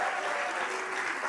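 Continuous applause fills a church worship service in Batam, a steady wash of clapping from the congregation, moderately loud with a faint sustained tone beneath.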